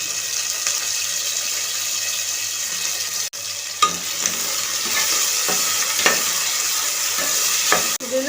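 Onion and tomatoes frying in oil for chicken biryani, a steady close sizzle with occasional stirring scrapes and brief clicks, no voices.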